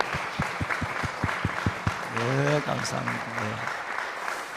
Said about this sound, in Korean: 우리 큰 박수로 우리 한번 장로님 권사님 환영합시다